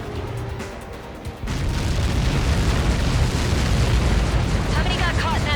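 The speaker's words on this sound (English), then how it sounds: "How many got caught in that explosion?" Huge blast in the video game Ace Combat 7 mission "Lighthouse", a sudden deep roaring eruption that swells and rumbles on as a loud sustained wash after a quieter lead-in.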